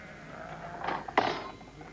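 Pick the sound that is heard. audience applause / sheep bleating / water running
sheep bleating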